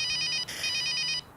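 A telephone ringtone trills in a steady repeating electronic pattern, loud and close, with a short break midway before it resumes and then stops abruptly.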